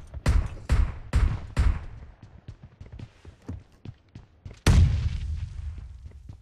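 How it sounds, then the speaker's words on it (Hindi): Gunfire in the PUBG battle-royale video game: a rapid burst of several loud shots, then a run of quieter scattered shots, and one more heavy blast near the end that rings out and decays. "बार बार गोलियां चला रहा है"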